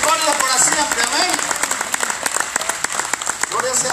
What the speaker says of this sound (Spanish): ¿Por qué no regalan fuerte aplauso al Señor?